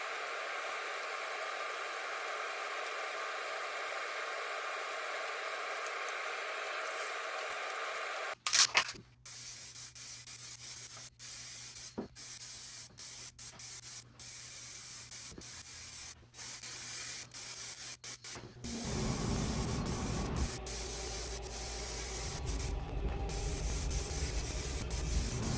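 Rattle spray can laying clear coat on a car, a steady broad hiss that runs long and continuous, shifting in tone and getting fuller toward the end as the heavier second coat goes on.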